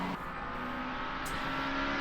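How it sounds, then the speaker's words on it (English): Race car engine in a racing video game set at the Sochi Autodrom, a steady, fairly quiet engine drone holding a constant pitch for about two seconds with no talk over it. "Car sounds a little bit loud."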